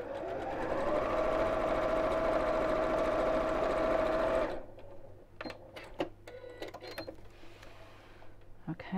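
A sewing machine runs steadily with a loud, even mechanical whir for several seconds, then stops, leaving quiet clicks and faint handling sounds.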